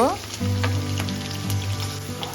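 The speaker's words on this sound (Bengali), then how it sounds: "বিনসটা এক মিনিট ভেজে নেব" Small chopped beans hit hot oil in a pan for vegetarian fried rice, bursting into a loud, close, continuous sizzle with light stirring scrapes and no speech.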